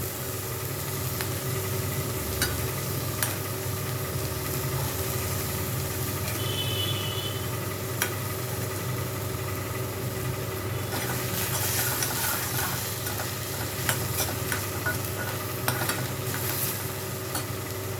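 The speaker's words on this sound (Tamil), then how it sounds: "வெங்காயத்தை நல்லா வணக்கிக்கலாம்" Onions sizzle steadily in hot oil in a pan while being stirred for a baby corn gravy, with occasional scraping clicks over a constant low hum and no talking.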